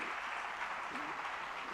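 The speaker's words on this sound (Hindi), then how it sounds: "जरा जोरदार तालियां बजाइएगा।" A crowd at a religious gathering applauds in a short, steady burst of clapping heard from a distance with a soft room wash.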